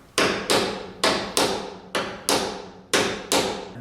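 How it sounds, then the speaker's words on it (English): A hammer strikes a piece of 1/4-inch steel flat stock held against the door of a 1967 Chevy C10 pickup, with eight sharp metallic blows in a fairly even rhythm, close and loud. "I'm trying not to hit the fender with the hammer"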